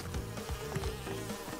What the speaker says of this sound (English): That is a bee.